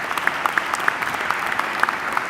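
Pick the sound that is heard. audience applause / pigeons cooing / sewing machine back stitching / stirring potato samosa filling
audience applause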